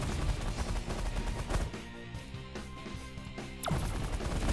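Rapid bursts of weapons fire crackle and thud in the space strategy game The Last Federation, a dense volley of blasts with short pauses and a sharp final shot, no talk over it.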